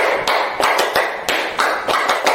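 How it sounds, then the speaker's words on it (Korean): A pair of hands claps ten times in a grouped rhythm of two, three, two, three, each crisp tap close and fairly loud with short gaps between the groups. "박수 딱 10번만 치는데 박자는 짝짝 짝짝짝 짝짝 짝짝짝입니다"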